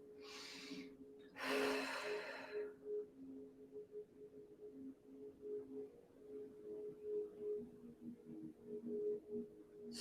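Deep breaths during a beginner yoga class, with two loud close breaths near the start followed by soft, slow, rhythmic breathing over a low steady hum.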